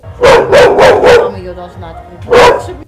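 Loud dogs barking nearby at a dog hotel in Lviv: a quick run of four sharp barks, a pause, then one more bark.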